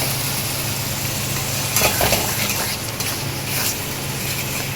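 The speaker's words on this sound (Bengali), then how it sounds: "এইভাবে বেশ কিছুক্ষণ কষিয়ে নিতে হবে।" Chicken masala with yogurt being sautéed in a pan, giving a steady, close sizzle broken by a few brisk scraping stirs.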